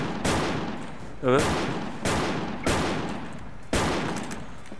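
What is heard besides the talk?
M500 shotgun firing in a video game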